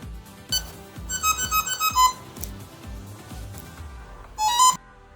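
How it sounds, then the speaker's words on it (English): Short electronic beeps from an RC airplane chirp in two bursts, a rapid series of high tones early and another brief burst near the end, over a soft mechanical rumble. "that sound you heard there is the airplane's way of telling you that everything is plugged in correctly"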